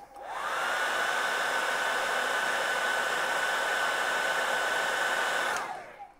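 A hair dryer blows on freshly airbrushed paint, a loud, steady, close rushing whir with a constant whine. It spins up, holds evenly for about five seconds, then cuts off.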